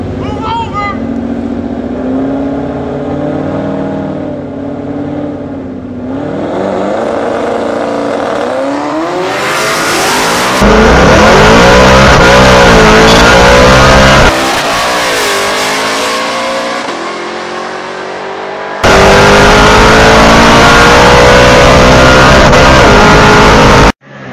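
A race car does a burnout, its engine revving hard and rising with tire noise, building from a rough idle to very loud sustained roaring bursts, with voices in the background.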